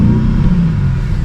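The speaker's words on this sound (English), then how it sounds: "get the engine fired up" A BMW XM's engine rumbles steadily at close range, a deep, continuous low drone with slight swells as it revs after start-up, no voices over it.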